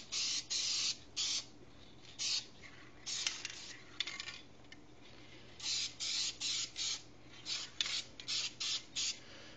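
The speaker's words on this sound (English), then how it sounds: "I'm just going to shoot a couple quick coats on here." Spray gun bursts laying quick coats of paint on a piece in cold weather, about a dozen short hissing sprays in rhythmic on-off pulses, close and fairly loud, with small clatters between.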